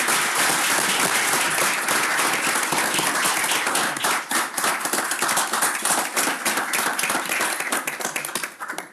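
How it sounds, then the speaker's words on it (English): An audience at a commission meeting gives a group of young scouts a dense, sustained round of applause that starts full and gradually tapers off. "let's give these young men a big round of applause."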